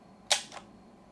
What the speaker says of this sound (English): Slow shutter towards a light source,